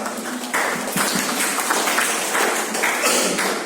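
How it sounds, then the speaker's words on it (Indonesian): Audience applause at a community gathering: sustained dense clapping from a group of people, fairly close and steady for a few seconds before easing at the end. "tepuk tangan Pak"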